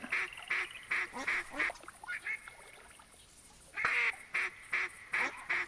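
Ducks quack in rapid bursts of repeated calls in the hunting game theHunter 2017, fairly faint and a little distant, with a quieter stretch in the middle before the quacking picks up again.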